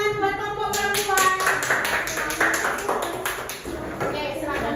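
A classroom audience gives a short round of applause for a group of women who have just presented. The scattered clapping lasts a few seconds and is mixed with voices talking.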